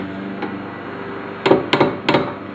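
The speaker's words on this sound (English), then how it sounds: "I'm going to go ahead and torque it down" Torque wrench tightening the rear hub nut on a 2001 Honda Civic LX to 134 foot-pounds: a quiet workshop hum, then three or four sharp close metallic clicks and knocks in quick succession.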